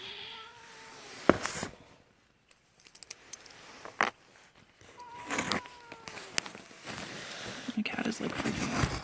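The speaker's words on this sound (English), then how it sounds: "My cat is like freaking out." A pet cat meows in agitation amid other cats in a room during an unboxing, with brief sharp cries standing out over scattered handling noises and quiet stretches.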